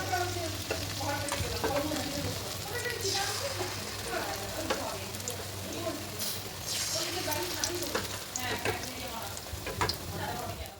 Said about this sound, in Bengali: কড়াই সারা তেল দিয়েছি এবার একে একে বড়াগুলো দিয়ে দেবো